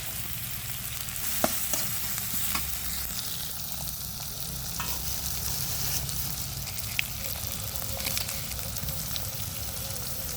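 Onions hit hot oil in a pan for a duck egg and new potato curry, giving an even, continuous sizzle with a few small clinks.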